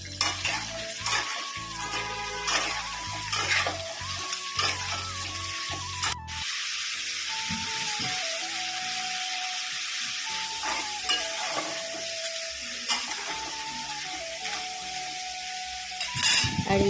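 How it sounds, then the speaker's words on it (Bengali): Turmeric- and salt-coated crab frying in hot oil in a wok, giving a steady close sizzle with intermittent scraping and stirring clatter throughout, no voices. "হালকা হলুদ দিয়ে লবণ দিয়ে মেখে রাখা কাঁকড়াটা আমি একটু ভালো করে ভেজে নিচ্ছি"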